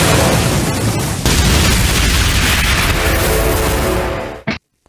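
An explosion in an animated sci-fi recap, where an alien spacecraft blows up an area: a loud, roaring blast rumbles for about four seconds, then cuts off abruptly into silence.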